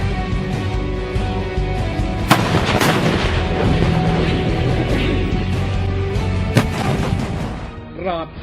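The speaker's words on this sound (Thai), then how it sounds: "เสียงปืนใหญ่ดังเหมือนฟ้าลั่นกึกก้องมาแต่ไกล" Heavy artillery fire rumbles continuously, with two sharp, loud cannon reports cracking out above the roar a few seconds apart.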